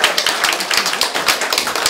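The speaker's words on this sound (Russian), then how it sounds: "Поддержим Илью аплодисментами" Audience applause for a small child singer at a vocal studio concert, quick, crisp claps close by, loud and continuous for about two seconds.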